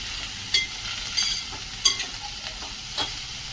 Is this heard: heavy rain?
no